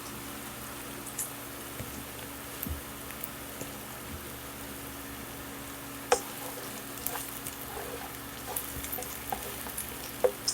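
Sausage fries in sunflower oil, a steady faint crackling sizzle with occasional small pops, close but quiet and without talk.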